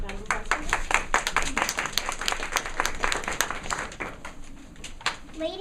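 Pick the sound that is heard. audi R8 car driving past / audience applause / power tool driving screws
audience applause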